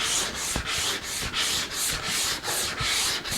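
Wood on an acoustic guitar neck joint fixture is sanded by hand with 80 grit sandpaper, about nine regular back-and-forth scraping strokes, loud and close with no talk.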